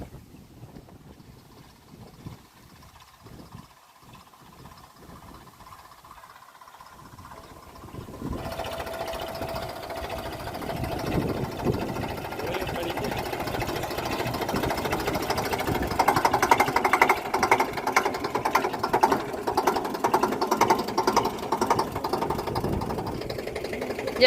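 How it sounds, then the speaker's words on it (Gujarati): A tractor engine in a farm field at sowing time: quiet at first, then a steady, louder mechanical drone that runs continuously through the rest, with some wind noise. "મારા બાપ લઈ આવે ટ્રેક્ટર"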